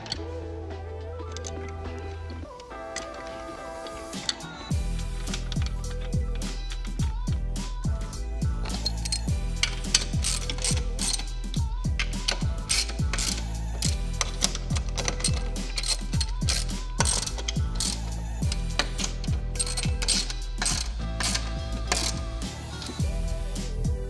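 Screws are driven in during assembly of a Spalding basketball hoop backboard, with a quiet opening giving way to a dense run of close metallic clicks, ratcheting and clinks that continue steadily to the end.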